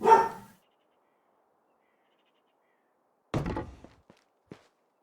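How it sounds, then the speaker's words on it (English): A dog in the game Medieval Dynasty gives a few sharp, isolated barks, one thudding burst at the start and a cluster of shorter yaps later, separated by silence. "My dog doing some barking, and he's not supposed to."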